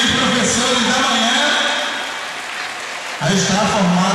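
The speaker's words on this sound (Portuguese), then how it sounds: "Vamos aplaudir aí os professores da manhã." Outdoor audience applause for the morning-shift teachers at the Festival dos Botinhos in Maraã, Amazonas, in 2010: a dense, loud wash of clapping that thins briefly, then swells again as a voice on a loudspeaker comes in.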